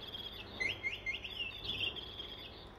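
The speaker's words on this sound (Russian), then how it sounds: "Как у тебя птичка поет? Покажи." A pet bird sings indoors in a quick series of high, bright chirps and trills, fairly close and clear, with faint background hiss and no talking.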